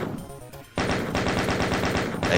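Chaingunner enemies fire in Evilution, a steady burst of rapid automatic gunfire that kicks in abruptly and rattles on loud and continuous, with brief overlapping shots.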